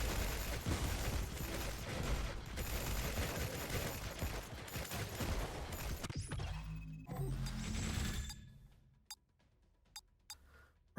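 Weapons firing in the mech bullet-heaven game Time Treker: a dense, loud barrage of mechanical gunfire and crashing impacts that runs continuously, then thins out into a few isolated sharp shots near the end.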